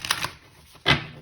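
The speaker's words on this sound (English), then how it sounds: "I'm giving the tarot deck a little bit of a shuffle" A tarot card deck is shuffled in two short riffling bursts, a soft double flutter, a pause, then one sharper flick of the cards, close and crisp.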